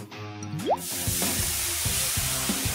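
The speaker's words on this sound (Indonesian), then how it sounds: "Aku mau goreng adonan ini." Dough fries in hot oil with a loud, constant close sizzle and hiss that sets in after a brief tonal sound and continues unbroken to the end.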